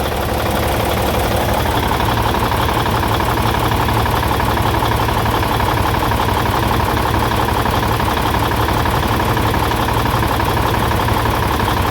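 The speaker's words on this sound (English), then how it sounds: "Engine runs nice and smooth." Steady rumbling idle of a Cummins N14 diesel truck engine with an injector problem and an exhaust leak, loud and close, with a constant low knocking chug throughout and no voices.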